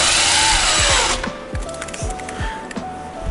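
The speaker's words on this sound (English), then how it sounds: "the first thing we're going to do is take off the gearbox cover" A power driver removes the gearbox cover from a Traxxas RC model with a Velineon 3500 motor. A loud, steady whir lasts about a second, then gives way to quieter, irregular ratcheting clicks and taps up close.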